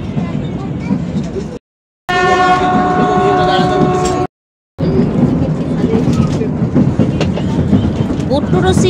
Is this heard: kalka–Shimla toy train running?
yes